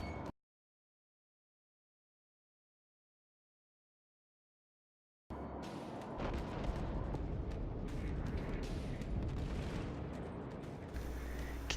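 Battleship main-battery shells from a Tier VI US battleship, the New Mexico, firing and striking in World of Warships, heard as a deep rolling boom and rumble that comes in after several seconds of silence and stays loud.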